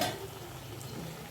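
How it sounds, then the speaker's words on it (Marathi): Mysore bonda frying in hot oil, a steady soft bubbling sizzle, close and continuous, with no voices. "मैसूर बोंडा आतमध्ये तेलामध्ये सोडताच असं वर यायला पाहिजे"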